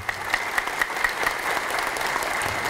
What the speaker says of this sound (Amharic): ሲለነሱ አጨብጭቡላቸው በእውነት።